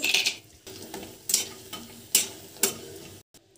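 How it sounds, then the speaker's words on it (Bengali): Sun-dried lentil dumplings (bori) frying in a pan, heard as a soft, close sizzle with several sharp spoon scrapes and taps against the pan at irregular intervals, and no talking. "কয়েকটা বড়ি ভেজে নেব।"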